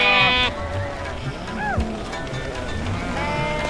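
Sheep and goats bleat along a road in Afghanistan amid steady vehicle noise, with a couple of wavering calls standing out over the constant rumble.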